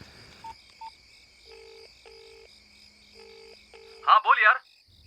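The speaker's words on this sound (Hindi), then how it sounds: "एक काम करते हैं, सुरेश को फोन कर देते हैं" Telephone keypad being dialed to call someone: a few short tone beeps, then a run of evenly spaced dial tones under a faint hum, ending in a brief burst of voice.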